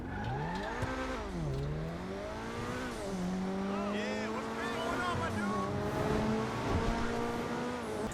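Coquette D5 sports car engine in GTA Online, revving and shifting through gears with rising and falling pitch sweeps, loud and continuous, with someone talking over it.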